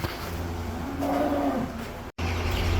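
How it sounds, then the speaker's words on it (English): Dairy cows in a barn at chore time before milking; one drawn-out low moo rises and fades over steady barn background noise, with no talking. "as you can see, we have all the cows in"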